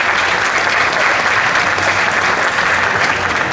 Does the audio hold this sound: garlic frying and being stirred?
no